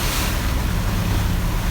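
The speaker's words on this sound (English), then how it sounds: "6-foot seas probably. Pretty much coming straight at us." Rough seas of about six feet, with 15 to 20 knot winds, pound against a small sailboat. A dense, continuous roar of surf and wind buffeting fills the moment with no speech.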